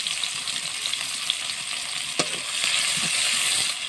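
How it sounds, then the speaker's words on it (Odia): Onion and tempering spices frying in hot oil for a desi fish curry, a loud, steady hiss with brief crackles and a spoon knock, swelling slightly near the end, no voices. "ତେଲ ପଇଲା, ଫୁଟଣ ପଇଲା, ପିଆଜ ପଇଲା"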